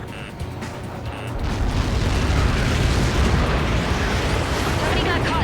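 Massive in-game explosion in Ace Combat 7 when a Helios projectile hits, a loud, rolling blast that swells after a second and rumbles on heavily, with faint radio chatter at the start.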